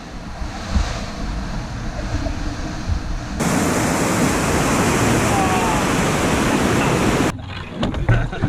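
Loud, rushing river rapids on the Findhorn roar steadily, heard from a canoe, swelling louder midway before easing, with wind buffeting the microphone throughout.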